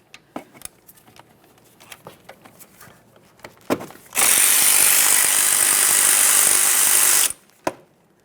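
A power tool spins 14mm caliper slider mounting bolts loose on the front brakes of a 2010-2013 Kia Forte Koup 2.4L. One loud, steady whir of about three seconds, with clicks and handling noise before and after.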